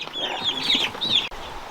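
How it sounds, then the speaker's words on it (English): 25-day-old chicks peep and cluck in a continuous, close chorus as they are moved from the brooder into an outdoor coop. High cheeps rise over soft handling noise, then a brief cut near the end. "There goes the chickies going in the cage. I'm gonna be taking them to the coop."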